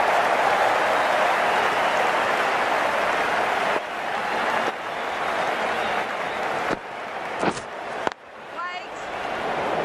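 Stadium crowd applauding and cheering in the video game Ashes Cricket 19 after a six, a dense roar of clapping that fades gradually, with a commentator talking over it.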